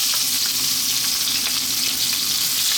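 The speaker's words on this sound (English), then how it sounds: "we're going to add in our curry leaves. Now these can be quite noisy, hold tight." Curry leaves and onion sizzling loudly in hot oil on high heat, a steady dense crackling hiss throughout with no voices.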